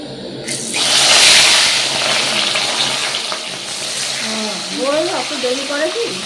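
A fish curry sizzles steadily in a pan, a spicy Bengali machher jhal made with green chillies and black pepper. The frying hiss continues throughout, with a voice speaking over it near the end.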